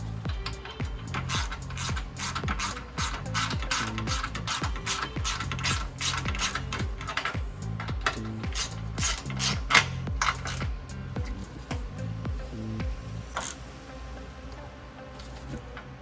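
A ratchet tightening a 10 mm bolt on a Jeep JK brake line bracket gives rapid, close clicking in repeated bursts with short pauses, then stops near the end.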